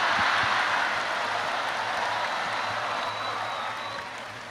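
A crowd claps at an outdoor youth political oration, a dense, moderately distant patter that slowly fades toward the end.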